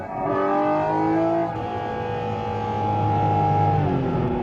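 Porsche Cayman GT4 RS engine revving, a harmonic-rich wail that holds, drops slightly, then rises again, loud and close with no talk.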